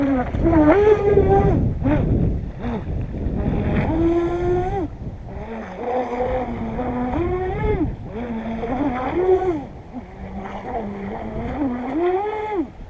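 A modified RC boat runs on water with a buzzing electric motor whine that surges and eases in pitch over and over, close by, with wind and splashing in the background.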